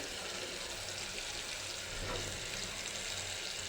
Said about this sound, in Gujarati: હવે આપણે તેમાં રીંગણ મૂકી દઈશું